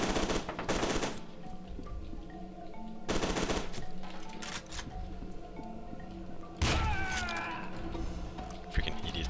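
Automatic machine gun fire in the shooter game F.E.A.R. 2: Project Origin, with loud sustained bursts of rapid shots in three main clusters over a busy game soundscape, the last burst erupting sharply near the end.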